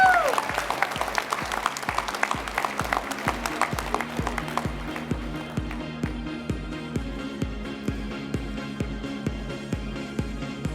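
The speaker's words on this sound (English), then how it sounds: "let's give a warm round of applause to your Hall of Fame coaches" Coaches Hall of Fame induction audience applauding the inducted coaches: steady, full clapping from a large room, loudest at first and settling to an even patter, with a rhythmic low thumping beneath it.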